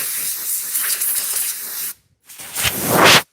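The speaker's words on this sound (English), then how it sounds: "Just using the air compressor." Air compressor nozzle blowing air in a workshop where knives are being sharpened: a loud, broad hiss lasting about two seconds, a brief stop, then a second rising blast that swells before cutting off.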